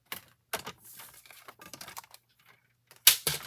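Scissors or a blade cutting out a piece of card paper for a shaker card, heard as short crisp snips and rustling paper, with a louder tearing, crinkly burst near the end, close and alone without speech.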